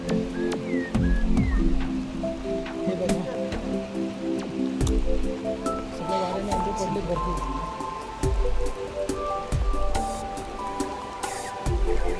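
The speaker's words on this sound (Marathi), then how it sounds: "अवकाळी पाऊस आहे" Unseasonal May rain patters steadily on a surface with scattered drips in Ambavade village, while people talk and tonal sounds drift in and out.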